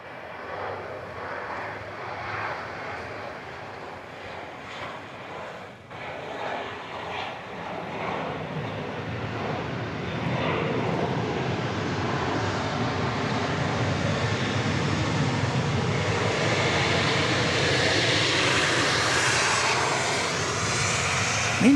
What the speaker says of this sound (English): I hear the sound of a revving 737.